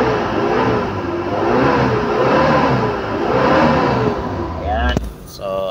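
A Mitsubishi Adventure engine with suspected crankshaft gear and mass airflow sensor trouble revs under throttle, its pitch rising and falling in steady surges close by, then cuts off abruptly near the end.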